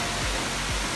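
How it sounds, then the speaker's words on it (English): A waterfall on a hiking circuit gives off a steady, broadband rushing roar, even and unbroken through a very short moment with no talking. "This is another waterfall."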